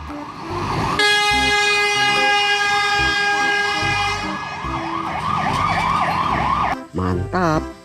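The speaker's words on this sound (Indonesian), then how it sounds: "Wow, mobil damkar." A fire truck siren wails loudly and close, a cycling whooping tone with a strong harmonic horn blast layered over it, joined by honking bursts near the end.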